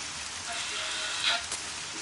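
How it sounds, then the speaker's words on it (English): Steady rain patters on a surface as a faint, even hiss, with a couple of slightly louder drops near the middle and no talking. "Can you hear me all right in this lovely rain?"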